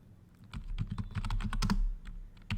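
Rapid, uneven keystrokes on a computer keyboard as a comment is typed into a C program, close and clear with short pauses between bursts, no talking.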